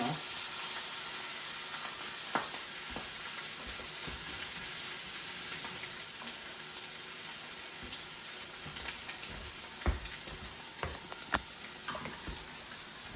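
Steak sizzling in oil in a pan, a steady close frying hiss throughout with occasional pops and utensil clicks, and a voice speaking briefly.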